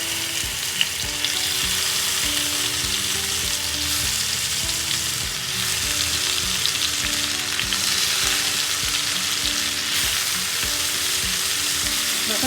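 Katla fish sizzles in hot oil on a home stove, a continuous loud crackling and spitting with bursts of stirring scrapes throughout.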